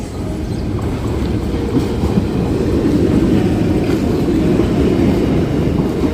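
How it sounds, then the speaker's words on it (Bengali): Suburban train pulling into a station near Sonarpur, a loud, steady low rumble of wheels and carriages with faint rail clatter rolling past up close, filling the whole stretch without any voices. "দেখতে পাচ্ছ ট্রেন আসছে এই ট্রেনে উঠবো আমরা"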